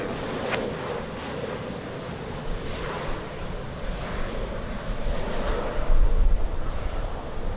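Airliner engines roar steadily through wind and rain at Lisbon Airport, a broad rushing noise that swells louder toward the end as the jet powers along the runway for takeoff.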